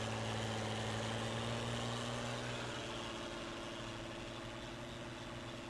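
A tractor engine idles in Farming Simulator 19 as a steady, loud, continuous drone with a low hum that holds unchanged throughout and no talk over it.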